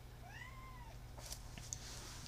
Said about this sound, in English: We have a little baby kitty.